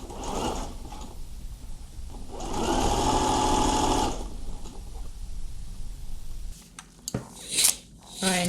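A sewing machine runs a burst of stitching along a seam on a teen dress side pocket, a steady mechanical whir lasting about two seconds, with softer handling clicks and rustles before and after.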